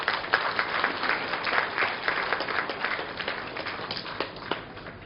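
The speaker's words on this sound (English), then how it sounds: "So now please give a warm round of applause as a welcome to Sister" An audience at a Brahma Kumaris launch event in Pokhara, Nepal, applauds to welcome a speaker, a dense, steady roomful of clapping that holds for several seconds before thinning slightly.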